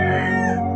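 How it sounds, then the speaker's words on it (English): A rooster crows on a poultry farm raising local chickens, a single loud, sustained call filling the short moment close by, with no talk over it. "These are local chickens being reared in a poultry."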